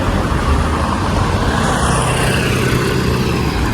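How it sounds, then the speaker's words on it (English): Yellow school bus passing in downtown Cancún city traffic, a loud steady engine and road roar blending with surrounding vehicles, close by throughout. "Oh, this is a school bus, just like America."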